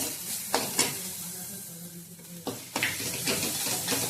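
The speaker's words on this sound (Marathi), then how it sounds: "हे चांगले एकत्र करून घ्यायचं आहे" Mutton being stirred with cumin powder, mutton masala and chilli powder in a pan, with a soft frying sizzle and several distinct scraping, clattering strokes of a spoon against the pan.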